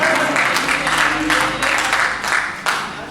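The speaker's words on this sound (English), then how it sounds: "Clap your hands for offering time in the house of the Lord." A church congregation claps hands at offering time in a steady, rhythmic crowd applause that fills the room loudly and continuously, with a voice faintly underneath.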